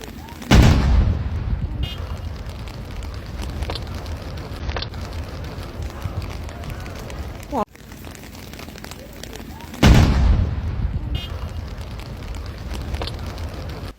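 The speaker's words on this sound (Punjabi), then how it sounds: "ਇਟਲੀ ਦੇ ਵਿੱਚ 크리스마ਸ ਤੋਂ ਪਹਿਲਾਂ ਹੋਇਆ ਵੱਡਾ ਧਮਾਕਾ" A burning gas-filled truck on Italy's A1 Milan–Naples motorway sets off two loud, heavy booms about nine seconds apart, over a constant rumbling, crackling roar.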